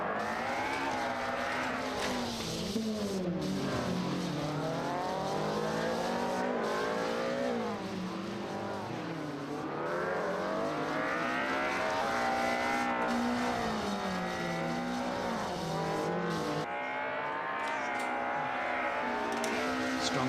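Electric race cars launching from the start line at the eROC 2022 World Final in Sweden, a steady high whine that climbs and falls in pitch as they accelerate, loud and sustained with no talk over it.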